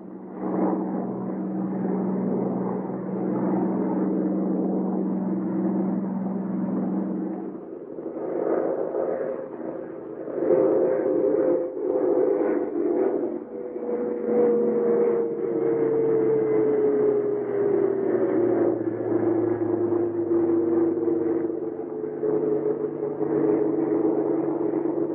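A P-39 aircraft engine drones steadily and loudly while landing, its pitch shifting and gliding downward as power changes, with no talk over it.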